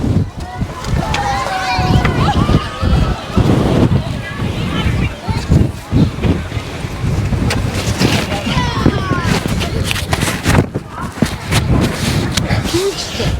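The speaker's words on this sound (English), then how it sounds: "Hat just blew off then. Massive gust of wind." Strong gust of wind buffeting the microphone by the sea at a beach with outdoor sculptures, loud roaring rumble with uneven surges throughout, with people's voices faintly mixed in.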